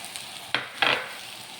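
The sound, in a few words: grated coconut stirred into roasting banana in pan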